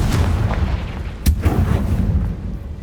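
A Confringo spell in Hogwarts Legacy gameplay lands as a single sharp blast midway, over a dense, rumbling game soundscape.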